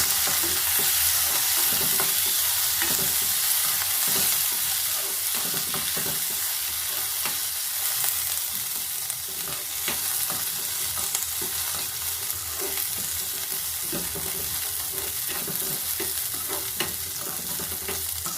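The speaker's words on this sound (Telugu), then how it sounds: "ఇవన్నీ కొంచెం వేగాలండి. ఒకసారి కలుపుతున్నాను." Curry leaves and other seasoning sizzle loudly in a pan for village-style tomato chutney, with a steady crackling hiss broken by frequent scraping stirs throughout.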